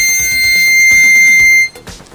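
A steady, piercing high-pitched tone holds loud and unbroken for under two seconds, then cuts off abruptly into a faint, low rustle.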